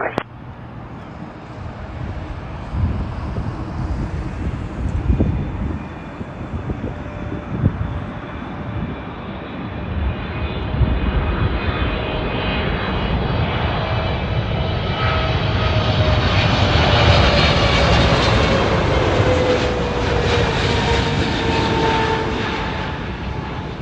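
A Pakistan International Airlines Boeing 777 jet lands at Toronto Pearson on its arrival from Islamabad. Its loud engine roar builds close by and carries a rising whine that sweeps upward, then slowly fades as it passes.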